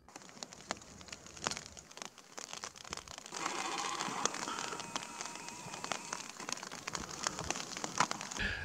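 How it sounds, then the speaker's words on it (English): Light rain pattering on a hillside during a hunting trip, irregular close taps and crackles over a soft hiss that thickens midway, with occasional rustling and no talking. "Bit of rain coming on."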